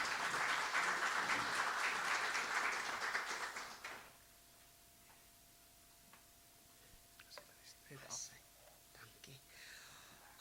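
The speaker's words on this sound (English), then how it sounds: "I think we can give Denise a round of applause" An audience applauds for Denise at a Siyabonga Day celebration for Thokozani Wines, a dense burst of clapping lasting about four seconds before it drops away into a quiet room with a few small knocks and shuffles.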